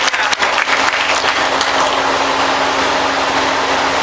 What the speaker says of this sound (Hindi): एक बार जोरदार तालियों से आप इनका इस्तकबाल करें